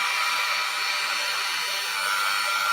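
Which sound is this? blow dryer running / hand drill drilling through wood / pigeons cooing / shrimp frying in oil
blow dryer running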